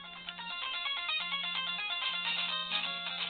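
A phone ringtone plays a bright electronic melody loud and continuous, with a low repeating tone pulsing in sections beneath it, no voices over it.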